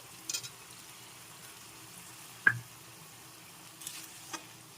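Chicken pulao ingredients being stirred in a pan, a quiet low sizzle broken by a few sharp utensil clinks and scrapes spread across the moment, fairly faint and without talk.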